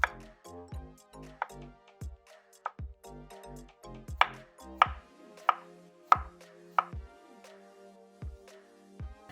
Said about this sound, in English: Chop up all of the veggies and add them to a bowl.